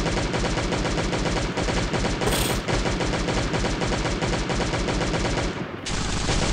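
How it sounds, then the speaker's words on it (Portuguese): Sustained rapid video game machine gun fire at a turret in Last Day on Earth rattles loudly and continuously, with a brief pause near the end before resuming. "Vamos dar uma metralhada nessa torreta aqui."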